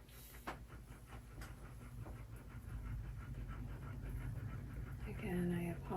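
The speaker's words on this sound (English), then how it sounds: "I apologize if the puppy dog pants in the background are bothering you" An old dog pants in quick, rhythmic breaths close by in a quiet room, the panting growing louder toward the end with a faint whimper near the finish.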